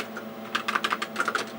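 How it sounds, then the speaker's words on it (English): Rapid bursts of key presses on a Tandy 6000 computer keyboard, close and crisp, clustering in quick uneven runs of clicks with short pauses between them. "I'm just going to type this and we'll get back"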